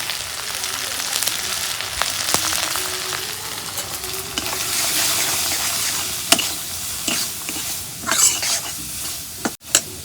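Chopped onion with raw and dry spices and salt fries in a hot pan while being stirred, a steady close sizzle broken by scraping stir strokes and a few sharp clacks of the utensil near the end.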